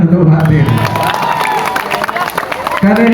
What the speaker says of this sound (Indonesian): Tepuk tangan untuk Fatir.